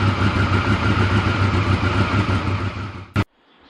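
A 1994 Triumph Sprint 900 motorcycle engine idles steadily while warming up, a close, even mechanical rumble that suddenly cuts out near the end, leaving near silence.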